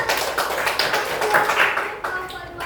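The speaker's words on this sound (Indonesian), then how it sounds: "tepuk tangan dulu untuk kelompok 2" A small group in a classroom claps briefly for a student group, a light patter of hand claps close by with a voice talking over it.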